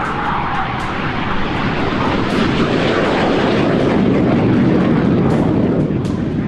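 Hawk jet training aircraft roaring overhead at an air base during a joint military exercise, a loud, steady jet engine rumble that holds throughout with no voices.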